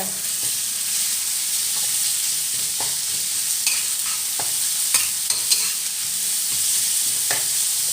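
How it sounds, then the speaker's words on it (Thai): Minced pork stir-frying with chili and garlic in a hot pan, a steady loud sizzle throughout with occasional scraping stirs and clinks, no voices. "ตามด้วยหมูสับจ้าผัดหมูให้สุกก่อนเด้อค่ะเด้อ"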